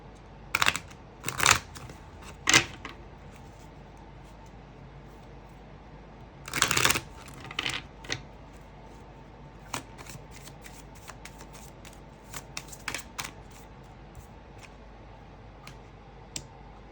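Tarot cards are shuffled by hand in a series of crisp riffles and snaps, some louder bursts early on, then lighter scattered card clicks over a quiet room background, with no one speaking.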